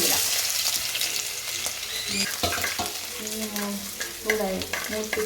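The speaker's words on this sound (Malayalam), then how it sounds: "നമുക്ക് ഇഞ്ചി ഇടാം." Ginger frying in a little oil in a pan makes a busy, crackling sizzle with light stirring clatter and scraping, and a faint voice sits under it in places.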